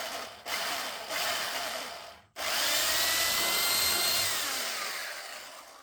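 A loud power drill whirs in bursts while boring through metal with old, blunt drill bits while building a NAS from junk parts. It cuts out briefly, then restarts and grinds on steadily for several seconds, close and harsh.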